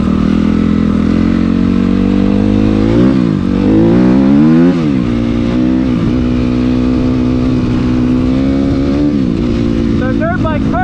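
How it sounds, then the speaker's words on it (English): A dirt bike rides through a cornfield between the crop rows, its engine droning loud and close and rising and falling in pitch as the rider works the throttle. "The dirt bike's perfect for riding in cornfields."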